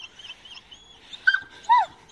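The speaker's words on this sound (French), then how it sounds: "il a aboyé une fois" A single short bark from one dog among a group kept together, a brief sharp yelp near the end after faint whimpering sounds.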